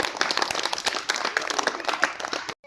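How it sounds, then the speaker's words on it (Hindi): Schoolchildren in a primary school classroom clap together for a classmate, a dense patter of small hands lasting a couple of seconds before stopping abruptly. "शिखा के लिए सब लोग तालियां बजाइए"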